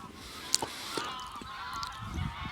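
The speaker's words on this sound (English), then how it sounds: "Even the geese sound as though they want some." Geese honk in a scattered, overlapping chorus at a middle distance at a waterside, with a few sharp knocks and a low rumbling background.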